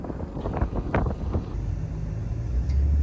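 Strong wind buffeting the microphone out in a wheat field during harvest in West Texas, a loud continuous rushing roar with gusty swells and low rumble, no voices.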